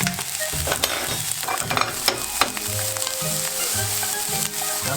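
Japanese fried rice with a little soy sauce being stirred and mixed in a hot pan, steady sizzling under rhythmic scraping and tossing strokes, close and loud, with no talking.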